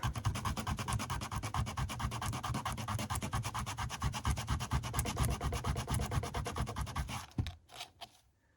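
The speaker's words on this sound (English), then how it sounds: "Gonna use the sandpaper again." Sandpaper rubbed by hand on a small piece while making earrings, a close, steady back-and-forth scratching of quick even strokes that goes on for about seven seconds before stopping, followed by a few faint handling noises.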